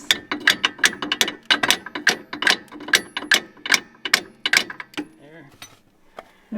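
A ratchet tightens a suspension bolt on a lift kit, producing a quick series of crisp clicking strokes close up, roughly a dozen in a steady rhythm before stopping, with brief speech afterward.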